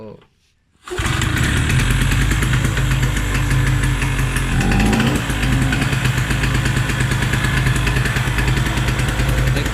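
A 750W mini generator, run on loose fuel and used for biofloc fish farming, starts after a second of quiet and then runs at a loud, steady, rattling drone with no break.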